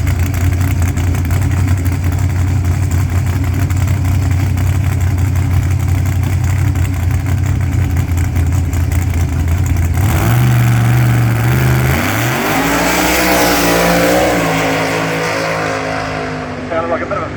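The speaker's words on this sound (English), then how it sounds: "Definitely sounded like a bit of a flare in the transmission there on the 1-2 shift though" A drag racing car sits idling with a deep rumble, then launches and accelerates hard down the strip, engine pitch climbing and dropping through a gear change before fading as it pulls away.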